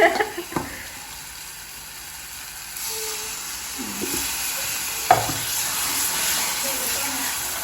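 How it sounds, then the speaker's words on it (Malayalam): Chicken fries in a pan while a blended tomato mixture is stirred and poured in, bringing a close, broad hiss and sizzle with a few clanks of utensils. "പിന്നെ തക്കാളി അടിച്ച മിക്സിനെയൊക്കെ ഒന്ന് ചുഴറ്റി പാർന്നു കൊടുക്കുക"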